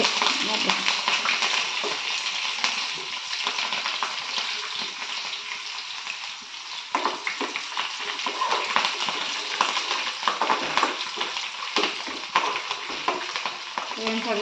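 Green chilies and tempering seeds frying in a small amount of oil in a home kitchen, a steady loud sizzle with crackle and occasional stirring throughout.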